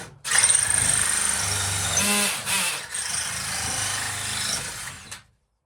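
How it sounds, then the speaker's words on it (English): A power drill with a 58 hole-cutter bit whirs steadily through a flexing ceiling panel board, close and loud, with a brief pause and a jolt midway before the motor stops. "now going through with a proper tool, at least, the 58 hole cutter to make the holes for the lights"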